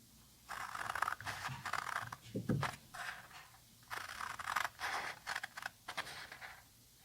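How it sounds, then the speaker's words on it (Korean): Scissors snipping slits into a folded paper card, a series of quiet, close, crisp cutting strokes in short bursts with small pauses between. "이렇게 가위집을 내줬고요"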